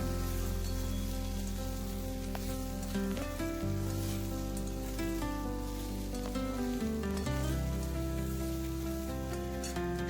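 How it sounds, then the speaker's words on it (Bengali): Cauliflower stalks, eggplant and other vegetables fry in a pan with a steady, rain-like sizzle that continues throughout. Loud background music plays over it. "সবজিগুলোকে খুব ভালো করে ভাজা করে নিচ্ছি মিনিট চার পাঁচ সময় ধরে"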